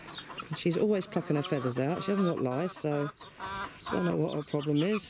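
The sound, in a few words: old hen clucking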